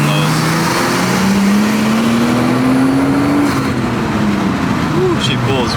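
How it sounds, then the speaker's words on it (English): A Nissan R34 Skyline with the RB25DET Neo turbo engine accelerates in one long, steady pull. The loud engine note climbs smoothly and continuously, then briefly shifts, with a voice talking over it. "Ooh, she pulls pretty good. It's such a linear, like smooth power band. It just keeps pulling."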